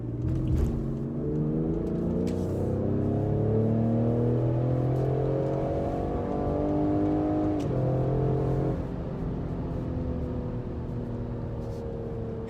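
A 2020 Ford Explorer ST, an all-wheel-drive 400 hp SUV, accelerates hard to pass another car. Heard from inside, the engine drone climbs steadily in pitch through the gears, loud and sustained, with a brief shift partway through.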